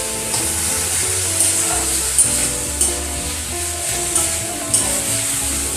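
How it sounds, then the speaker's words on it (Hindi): Bottle gourd stems with sugar stir-fry in a pan, giving a loud, steady sizzle broken by periodic spatula scrapes and taps, close up and without speech. "चीनी देकर हम इसको 1 मिनट तक उलट पुलट करके"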